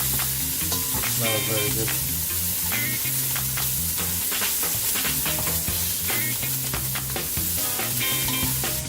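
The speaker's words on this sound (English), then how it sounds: "Shallots in, move them around a bit" Shallots sizzle and crackle steadily in a hot pan as they are stirred around for an oxtail dish, with kitchen clatter and background music running throughout and a brief spoken remark over the frying.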